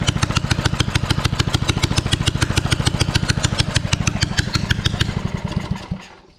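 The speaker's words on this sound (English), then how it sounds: "I'll give it a quick start up now" A finished drift trike's small engine runs close by with fast, even, thumping beats, holding a steady rhythm for about five seconds before winding down and cutting off.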